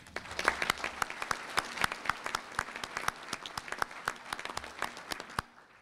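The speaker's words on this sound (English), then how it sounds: "I think that deserves a round of applause." A crowd at a city's State of the City address applauds with a fairly distant, steady patter of many hands, individual claps standing out, before it fades at the end.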